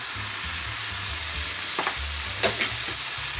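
Ground beef seasoned with garlic powder, smoked paprika and black pepper cooking in a pan, a steady close sizzle with a few distinct spatula scrapes midway while it is stirred and mixed.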